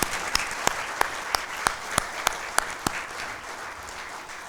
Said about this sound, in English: If we could give them all a round of applause for the work.